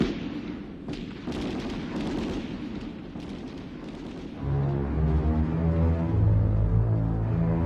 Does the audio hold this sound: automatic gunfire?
yes